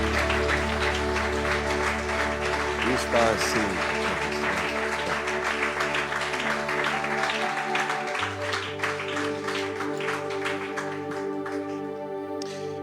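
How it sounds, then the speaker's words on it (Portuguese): A church congregation applauding during a service: a dense, steady patter of many hands clapping over held organ or keyboard chords, with a brief spoken voice amid it. "damos um aplauso para Jesus"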